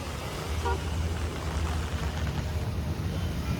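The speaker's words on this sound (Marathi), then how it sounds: "बघा थार येते आहे, थार येते आहे." A Mahindra Thar SUV drives through heavy monsoon rain on a Virar street: a steady, loud wash of rain and road spray over a low engine rumble, with a short horn toot early on.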